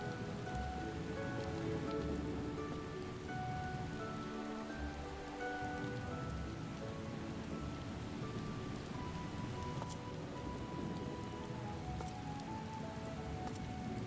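Steady rain falls in Final Fantasy XIV, a dense, even patter on surfaces that continues unbroken beneath soft ambient music.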